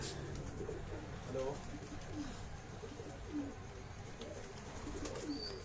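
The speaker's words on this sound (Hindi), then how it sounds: "ये कबूतर दिखाएं" Pigeons coo softly on a rooftop in repeated low, throaty calls against a constant background of noise, with faint voices mixed in.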